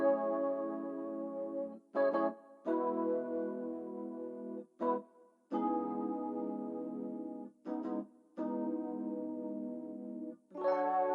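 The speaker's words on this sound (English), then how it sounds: "So I've used these electric piano that just sounds like this." Electric piano playing simple sustained chords in an 80s synth pop beat, the notes held in long blocks broken by short gaps and brief stab-like hits, loud and alone with no voices.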